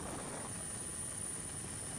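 A rescue helicopter's steady rotor and engine roar fills the whole clip, loud and constant with no other sounds.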